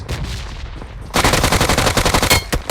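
Rapid automatic gunfire from the battle-royale game PUBG Mobile, loud and close: a softer burst first, then a dense sustained spray of shots with no talk.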